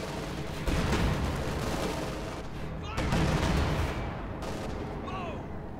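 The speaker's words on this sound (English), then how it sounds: "Pack 40 firing here though." A Pak 40 anti-tank gun fires in the Company of Heroes 2 battle game, with two heavy booming shots a couple of seconds apart over constant battlefield rumble and distant combat noise.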